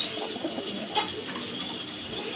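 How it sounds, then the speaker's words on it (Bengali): A pair of Shekhar pigeons of an uncommon Indonesian colour coo softly at close range, a few short throaty calls over faint background noise, with no talk. "এক জোড়া শেখর কবুতর।"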